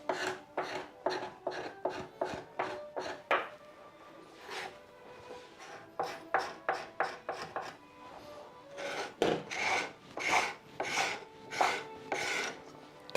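A flat scraper rasps across a wooden door being restored, in repeated short rhythmic strokes that come in bursts separated by brief pauses, close and moderately loud with no talking.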